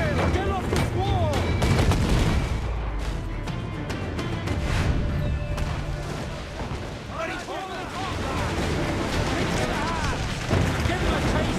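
Ship cannon broadsides in Assassin's Creed 4 Black Flag, dense overlapping booms and gunfire with crew shouts and talk throughout, a busy naval battle din at steady loudness.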